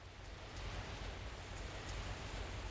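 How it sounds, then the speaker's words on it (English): Steady rain falling on city streets in the video game Kikokugai - The Cyber Slayer, a soft, even hiss with a low rumbling undertone, continuous and fairly quiet with no voices. "The sound of rain fills the streets as though trying to crush the spirits of all beneath its weight."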